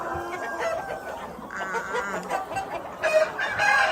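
Chickens cluck continuously in a poultry pen while a rooster crows, the calls dense and fairly close, with no talking.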